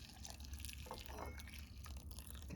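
Water is poured into a bowl holding a stirred mixture with juicy strawberries. It trickles and splashes steadily, close up, with a faint hiss around it.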